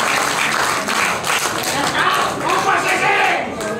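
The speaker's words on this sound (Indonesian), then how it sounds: "Sekali lagi boleh tepuk tangan buat Pak Ganjar Pranowo" Enthusiastic crowd applause at a Halal Bihalal gathering, a dense wash of clapping that carries on steadily, with voices mixed in underneath.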